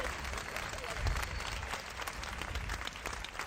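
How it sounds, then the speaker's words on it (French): Applause from an audience at a French evening event honouring speakers on a podium, a short burst of steady clapping filling the room at moderate distance. "On les applaudit bien fort, s'il vous plaît"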